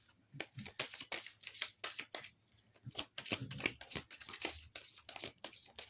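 A deck of tarot cards shuffled by hand, a close, rapid run of crisp riffling flutters and soft slaps coming in quick bursts with short gaps, no voices.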